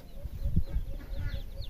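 Chicks peep in faint, high repeated chirps near their mother hen, over low, close rumbling clucks.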